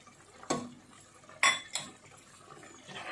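A spoon mixes chana masala into a chole curry in a pot, with two sharp metallic clinks and a few softer scrapes against the vessel, close up over a quiet background.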